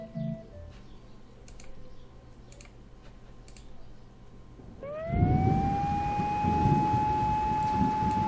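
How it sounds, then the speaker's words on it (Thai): Electronic siren in a horror doll-house video game, starting abruptly partway through and holding a steady rising wail over low rumbling game ambience, preceded by faint clicking. "แล้วก็มีเสียงหวอนะครับ"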